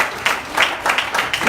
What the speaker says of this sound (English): They're here. Let's clap for them.